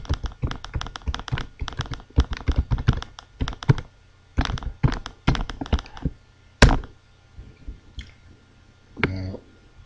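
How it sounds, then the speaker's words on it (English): Rapid bursts of typing on a computer keyboard as a website address is entered, with clustered clicky keystrokes in quick runs, a louder key thunk near the end and a few isolated taps, close and dry. "enter the website you want people to click through to"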